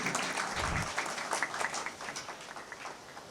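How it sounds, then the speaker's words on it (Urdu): An audience claps briefly at a mushaira poetry gathering in Bhiwandi welcoming guests, a short burst of moderately loud applause that thins and fades within a few seconds. "آپ لوگ بھی پرجوش تالی سے استقبال کیجیے"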